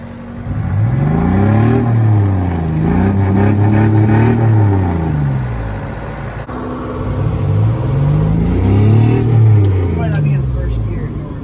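A Chevy Blazer with a blown rear end runs loudly, its engine rising and falling through two long rev cycles, with voices talking over it.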